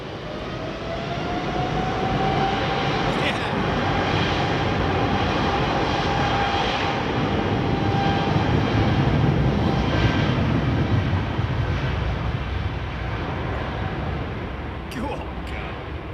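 A jet airliner's engines spool up at the airport, a loud, sustained broadband roar with a faint rising whine that swells through the middle and eases slightly toward the end, with no talk.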